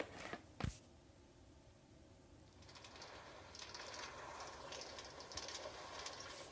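A Green Line metro train in the video game Minecraft runs along its track, a faint, steady rolling rumble with light rattling that swells slightly toward the end, with no talking.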